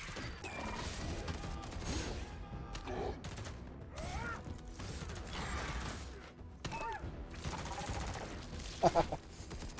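Rapid gunfire and mechanical clatter from the video game Halo: Reach run almost continuously, with dense bursts layered over a busy game soundtrack and effects, fairly loud and close throughout.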